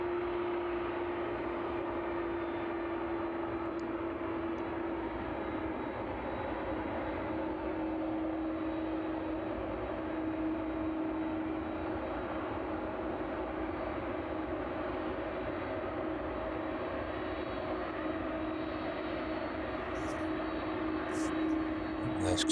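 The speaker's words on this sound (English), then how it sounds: "the 767 departing out to Cincinnati" A Boeing 767 cargo jet departs East Midlands Airport on a chilly evening, heard as a faint, steady distant engine roar with a sustained tonal hum that stays even throughout, with no voices.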